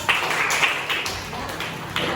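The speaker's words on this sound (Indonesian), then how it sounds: "tepuk tangan untuk Aurel." A classroom of students claps in a short burst of a few sharp, uneven hand claps, close by and fairly loud, with no talking.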